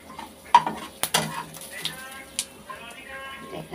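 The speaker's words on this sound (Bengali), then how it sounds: "তিলটা ভেজে নেব" Sesame seeds toast in a hot pan while being stirred, with sharp clinks and scrapes of a utensil against the pan over a faint sizzle, close by and uneven in rhythm.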